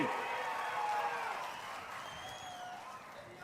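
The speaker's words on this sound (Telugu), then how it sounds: "అమరావతి రాజధాని అనే వాళ్ళు గట్టిగా చప్పట్లు కొట్టి మీ హర్షాన్ని, ఆమోదాన్ని తెలియజేయండి" Crowd at a political rally cheering and clapping, a broad wash of noise that swells loud at first and then gradually fades.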